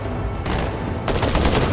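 Rapid gunfire from Halo 2 rattles continuously and loudly throughout, with a denser, harsher burst partway through and no talk over it.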